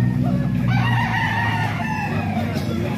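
A rooster crows loudly and close, one drawn-out call over a steady backdrop of other poultry and farmyard noise.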